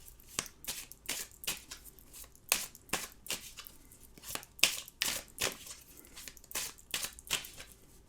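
A deck of tarot cards is shuffled by hand in a quiet room, giving a run of close, crisp riffling bursts in an irregular rhythm of roughly one to two per second.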